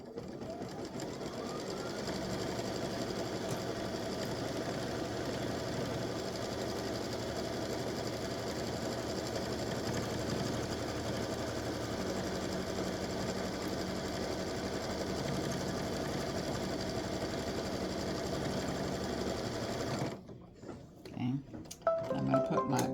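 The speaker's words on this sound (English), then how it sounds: "I'm going to stitch the placement stitch." Embroidery sewing machine running a placement stitch in blue thread for an appliqué design, a steady fast whirring drone that carries on for about twenty seconds, then stops and leaves a few handling clicks and rustles.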